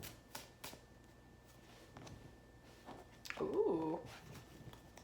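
Oracle cards are shuffled in a quiet room: scattered soft taps and flicks, then a denser papery riffle burst near the middle, fairly close and faint, with no talking.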